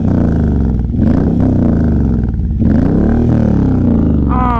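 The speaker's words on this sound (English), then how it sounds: "Let's listen to the Freedom exhaust on this thing." A Suzuki M109R cruiser motorcycle fitted with a Freedom exhaust revs loudly up close, the deep engine note rising and falling through several throttle blips.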